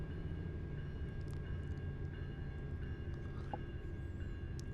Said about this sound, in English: Where's that train coming from?